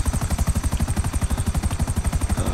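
A helicopter in GTA 5 Online flying close and loud, its rotor producing a fast, steady chopping pulse over a continuous turbine whine.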